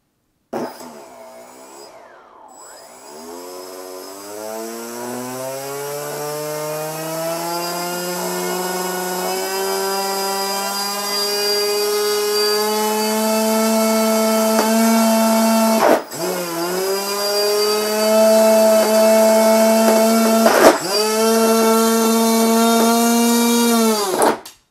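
The electric motor of an Arctic Cat RC model airplane throttles up slowly, a loud whine climbing steadily in pitch over about twenty-five seconds, with two brief dips where the power drops and recovers.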